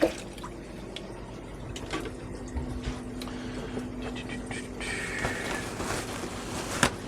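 Water splashes and trickles while a reef aquarium supplement container is given a quick rinse, with irregular drips and a running tap nearby and no talking.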